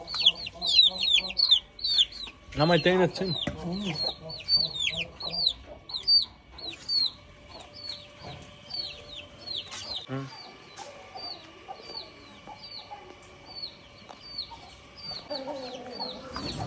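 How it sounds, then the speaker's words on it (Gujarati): Roosters and hens at a friend's yard cluck and call repeatedly, close and fairly loud, with one brief cackling burst and a person speaking briefly over the birds. "આપણે એક બીજા ફ્રેન્ડની ત્યાં કુકડા જોવા માટે આવ્યા"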